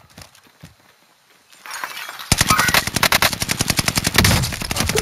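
Rapid automatic gunfire in a video game, loud and close, breaking out in quick successive bursts after a quiet opening with faint voices.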